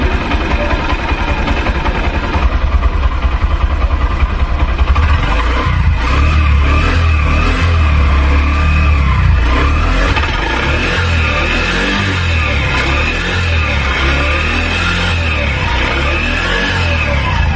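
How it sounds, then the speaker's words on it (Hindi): A 110 cc commuter motorcycle engine runs with its exhaust note, a loud, close, continuous throbbing idle that picks up and revs unevenly midway, then settles into a steady running drone, with no talking. "अब आप इस बाइक के इंजन का साउंड सुनिए और इसका एग्जॉस्ट नोट भी सुनिए।"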